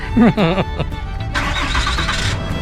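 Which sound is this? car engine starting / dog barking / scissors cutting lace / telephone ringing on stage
car engine starting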